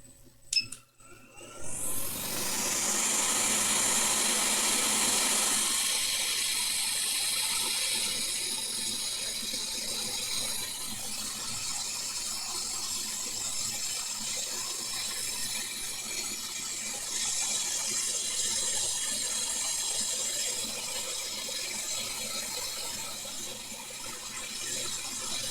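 Hot air rework station set to 450 degrees at 50% airflow with no nozzle, blowing onto a Nintendo Switch console circuit board; a steady, fairly loud airy hiss starts after a couple of seconds and continues throughout.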